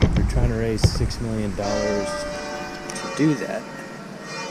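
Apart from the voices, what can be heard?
church bell ringing in distance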